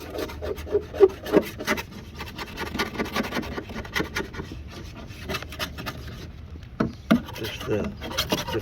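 Putty knife scraping paint off a Ride 135 being restored, a steady close rubbing scrape with rough, uneven strokes and a few louder scratches.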